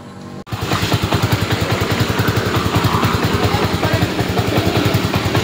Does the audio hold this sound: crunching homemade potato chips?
no